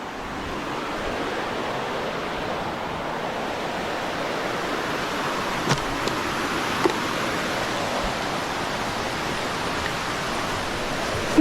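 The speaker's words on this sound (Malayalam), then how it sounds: "അപ്പോൾ ഇതാണ് നമ്മുടെ കുത്തുങ്കൽ വെള്ളച്ചാട്ടം" Water flows steadily over rock at the low-flow Kuthunkal waterfall near Malayattoor in an even, hissing rush, with a few faint clicks partway through and no talking.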